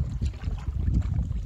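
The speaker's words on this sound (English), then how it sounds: "that's why I have the double-bladed paddle out now." Double-bladed paddle strokes from a canoe splash through choppy lake water under steady wind buffeting the microphone, a low rumbling wash running throughout.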